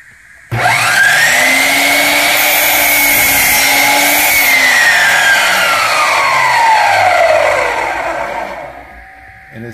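Admiral 12-inch miter saw cutting through wood: a loud whine spins up abruptly, holds steady through the cut for about seven seconds, then winds down with a falling pitch as the blade slows.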